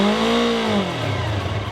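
A motorcycle engine revs under throttle, a loud, steady harmonic drone that climbs and then drops to a lower pitch partway through, with no talk over it.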